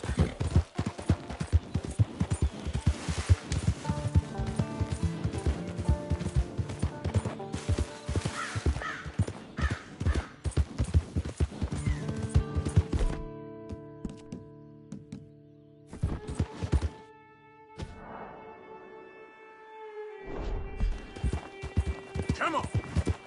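A horse runs with rapid, rhythmic hoofbeats for several seconds. The hooves then thin out and fade into quieter, scattered sounds, with voices calling in the background.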